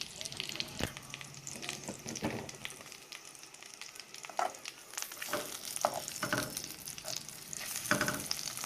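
Polish sausage frying in a pan with a steady, close crackling sizzle and bursts of popping grease. The hiss runs the whole time with scattered louder spits and pops.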